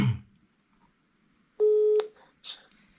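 A telephone call signal sounds on a phone while someone is being rung: one steady, loud electronic tone lasting about half a second, then a short, fainter blip in near silence.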